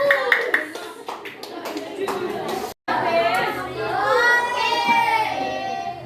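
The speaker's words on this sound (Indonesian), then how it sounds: "tepuk tangan buat kelompoknya Mas Apin." Schoolchildren in a classroom clap for a group, a quick patter of hands at the start giving way to children's chatter and voices as the applause fades, with a brief silent gap partway through.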